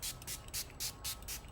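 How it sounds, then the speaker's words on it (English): Vitamin water face mist sprayed from a pump bottle, six quick rhythmic hissing bursts evenly spaced, close and soft. "So you just spray a couple of sprays."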